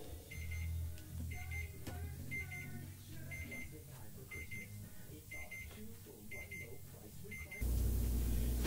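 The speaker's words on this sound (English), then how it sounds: "So the timer went off" An oven timer alarm goes off in a home kitchen, a steady series of evenly spaced beeps repeating about once per second over low background hum, ending in a sudden burst of loud noise.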